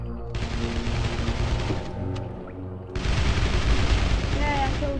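Rapid bursts of AK rifle fire in CastleMiner Z crackle loud and close, with a short lull in the middle before the shooting picks up again.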